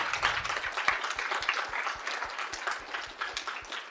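Audience applause at a spring summit event: quick, fairly quiet clapping from a modest crowd, sustained for a few seconds.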